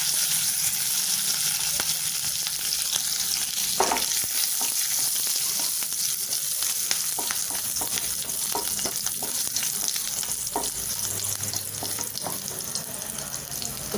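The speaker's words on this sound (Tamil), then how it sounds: "கடுகு சோம்பெல்லாம் பொரிஞ்சிருச்சு" Mustard and fennel seeds with crushed garlic and curry leaves sizzle in hot oil in a pan for a potato dry roast. A close, steady crackling fry carries scattered sharp pops throughout.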